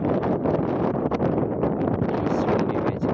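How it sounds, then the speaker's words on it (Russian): Strong wind buffets the microphone on a hillside in Anapa near the Gorgippia steps, a loud, continuous rumbling roar with gusty swells and no voices. "И сильный ветер, опять же"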